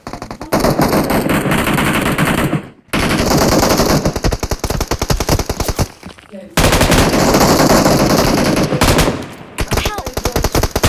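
Long, loud automatic bursts of machine gun fire in the video game PUBG, three extended strings separated by short pauses, with faint speech in the gaps.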